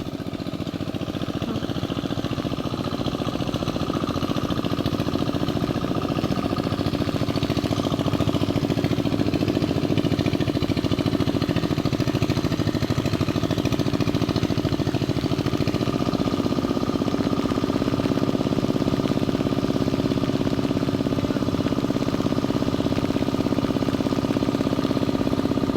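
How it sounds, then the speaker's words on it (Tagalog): A hand tractor engine runs steadily in a rice field, a constant mid-pitched mechanical drone that holds at an even, fairly loud level throughout with no speech. "Ilolusong na po yung makina dito sa isang baitang."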